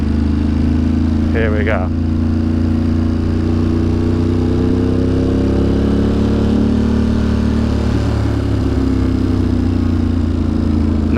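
A Harley motorcycle rolls through New York City streets with a loud, steady engine rumble whose pitch drifts gently as it moves. Someone speaks briefly near the start over the engine.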